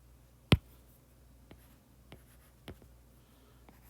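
Chalk or marker strokes on a lecture board: one sharp loud tap-stroke near the start, then a few faint scattered short scratches in a quiet room.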